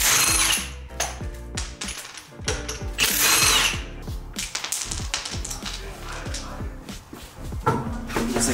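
A ratchet tightens the lug nuts on an RPF1 wheel fitted to a GC, with rapid, loud bursts of clicking that stop and restart several times. No voices are heard.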